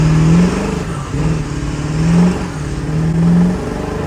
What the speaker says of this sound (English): Oh my god, it's all wheel spin.